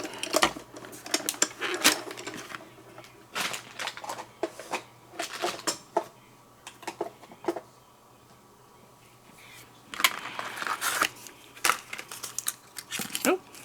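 Bright pink cardstock is worked through a die-cutting machine, producing repeated close clicks, crinkles and mechanical rattles in uneven bursts, with a quieter pause in the middle before a dense flurry of handling noise.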